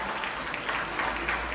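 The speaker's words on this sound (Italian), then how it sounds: "quindi un grosso applauso" Brief audience applause at a school legality day event, a steady blur of many people clapping, moderately loud over a low background hum.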